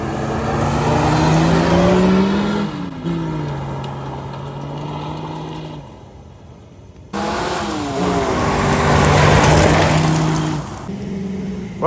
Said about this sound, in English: Well, the Mustang's idling high.